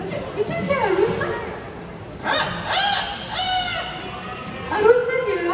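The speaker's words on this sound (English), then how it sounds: "that's an Amazon parrot" An Amazon parrot at an outdoor bird park crows like a rooster, a few rising and falling calls across the clip with talking in between.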